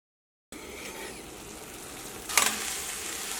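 Cabbage curry fries in a pan with a steady sizzle as it is stirred, a louder scrape of the spoon breaking through near the middle; no one speaks.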